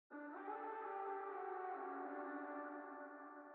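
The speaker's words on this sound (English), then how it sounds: "I have this sort of cool ear candy distorted vocal chant that I made." Distorted ear-candy vocal chant made for an electronic music production, one long sustained buzzing tone full of harmonics, dense and steady for several seconds before thinning slightly at the end, with no talking over it.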